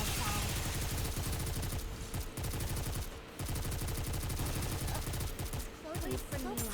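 Rapid automatic gunfire rattles steadily through a boss raid in the game Nikke, a dense stream of shots with brief pauses, loud and continuous, as a player talks over it.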